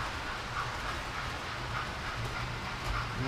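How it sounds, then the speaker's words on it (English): Steady rumble and rushing noise of trains moving past nearby at a station, with faint rhythmic rail clatter and hiss throughout. "There's some of the trains passing by."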